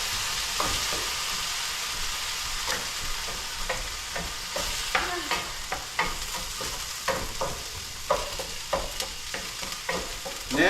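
Onions and ingredients for a red beet risotto sweat in a pan, a continuous soft sizzle broken by repeated close scraping strokes of a spoon stirring.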